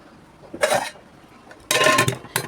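A lid goes onto a pot of freshly cooked rice in a home kitchen, making two close metallic clanks and rattles, the second one longer, with no voices.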